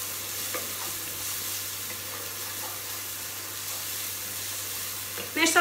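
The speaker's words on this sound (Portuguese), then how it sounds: "Vou juntar também e vou mexer." Ingredients for purslane soup are stirred in a pot, giving a steady sizzling hiss with faint scraping throughout and a louder clatter near the end.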